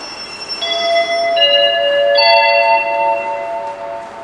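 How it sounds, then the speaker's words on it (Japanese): Electronic departure chime at a JR platform as a limited express train departs: a series of clear, sustained bell-like tones stepping through several pitches, loud and steady with no talking. "The Limited Express Super Tokachi 1. Bound for Obihiro is now departing from platform 6."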